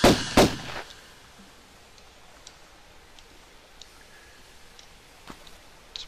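Gunfire in the Tomb Raider video game: a couple of loud, close shots at the very start, then faint ticking game sounds over a quiet background.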